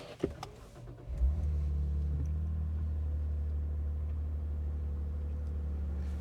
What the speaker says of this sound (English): we'll get an action shot of the car starting up